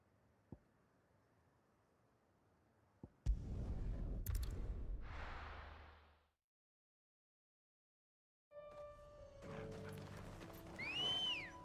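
A mounted steed in Final Fantasy 16 gives a loud whinny with hoof clatter after a couple of faint taps, then falls silent before busy game sounds and tones return.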